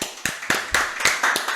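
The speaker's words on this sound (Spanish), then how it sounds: "Vamos a darle un aplauso a Dios" Church congregation clapping in a steady rhythm, about seven loud, sharp claps evenly spaced, close and clear with no voices over them.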